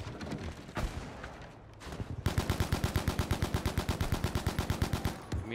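Rapid automatic gunfire from a video game shooter fires in a steady, fast burst of evenly spaced loud shots for several seconds, preceded by scattered quieter shots and ambient game noise.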